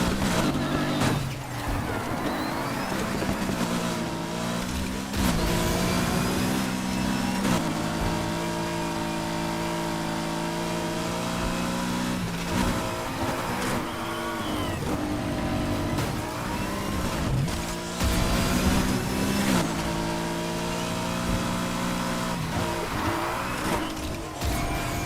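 A BMW M3 racing in Need for Speed, its engine droning loudly and steadily through the whole stretch, with rising and falling revs and brief dips as the car shifts and swerves against rival supercars.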